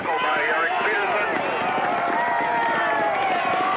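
A crowd at a 1984 Division 3 high school football quarterfinal gives a steady round of applause as a player leaves the field, a continuous broad clapping and cheering that stays at the same level throughout, with talk heard over it.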